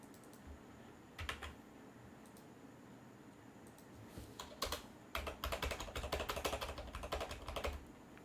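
Quiet computer keyboard typing while writing Python code: a few scattered keystrokes at first, then denser rapid clicking bursts, close and faint, with no speech.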